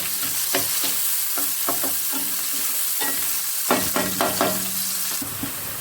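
Onion, garlic and green chili frying in a pan give a continuous close sizzle, with repeated clattering stirs of a spoon against the pan, louder in a quick burst near the end. No one speaks.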